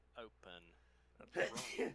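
A person sneezes indoors during a casual tabletop game session, a short sharp burst after some brief speech, followed by a second smaller sneezy exhale; voices talk just before it.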